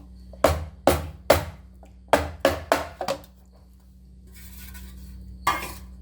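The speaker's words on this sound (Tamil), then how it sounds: "இப்போது ஒரு பிளேட் வச்சு அப்படியே டேப் மட்டும் பண்ணி விட்டால் போதும்" A plate tapping a puffed rice sweet mixture flat, giving a run of sharp, close clinking knocks in quick uneven bursts, then a pause with faint rustling and one last tap.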